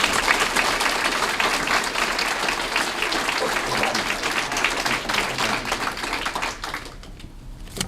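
An audience at a school district state-of-the-schools event claps in a dense, sustained round of applause that thins and fades near the end.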